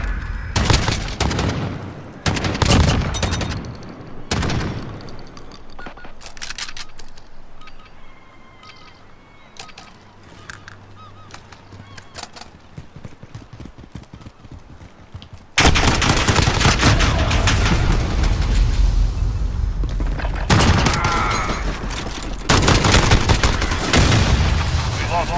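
Gunfire in Call of Duty: Modern Warfare: loud sharp shots in quick bursts, a quieter stretch with scattered distant pops, then dense sustained automatic fire and blasts that dominate the final part.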